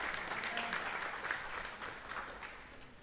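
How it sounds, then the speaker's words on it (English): Applause from a school presentation ceremony audience, a steady wash of many hands clapping at moderate volume that holds through the whole stretch without talk. "Can we please get another round of applause for Ruby Hawkins"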